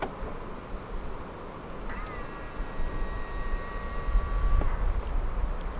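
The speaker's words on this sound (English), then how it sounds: "Long press the ribbed area to fold the side mirrors in." Side mirrors on a 2015 BMW 218i Active Tourer Luxury Line fold in with a steady motor whine lasting under three seconds, heard over a loud rumbling background.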